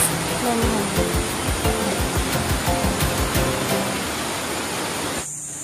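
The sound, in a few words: waterfall at Wawa Dam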